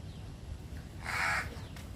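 A crow near Pawna... no, a crow in an outdoor natural setting gives a single loud, close caw lasting about half a second, rising above a steady low background hum.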